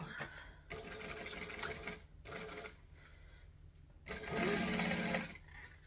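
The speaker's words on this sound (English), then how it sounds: "now we're going to fold that seam allowance down, and I'm going to top stitch along here" A sewing machine topstitches along a folded-down seam allowance on waterproof canvas, running in steady bursts of mechanical whirring with short pauses between, loud and close, with no voices.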